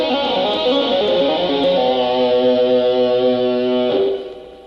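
An electric guitar lick picked with all four right-hand fingers produces rapid, even notes that blend into sustained ringing tones, close and loud, then trail off near the end.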